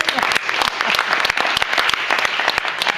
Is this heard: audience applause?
yes